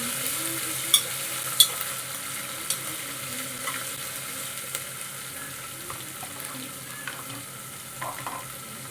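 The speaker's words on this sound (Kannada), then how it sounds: "ಅಲ್ಲಿ ಸ್ವಲ್ಪ ಫ್ರೈ ಮಾಡ್ಕೋಬೇಕು" Soaked rice frying in a pan, a continuous sizzle with occasional light scrapes and clicks of a spoon, close and moderately loud.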